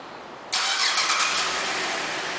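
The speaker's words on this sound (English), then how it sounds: "one of the many options in this vehicle is the remote start, and I'll demonstrate to you how that works now" 2008 GMC Acadia SLT engine firing up by remote start: quiet hiss, then a sudden crank and catch half a second in, settling into a steady close idle.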